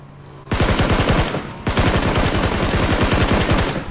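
Automatic gunfire in the PUBG video game, two loud sustained bursts of rapid shots in quick succession, close and dominant.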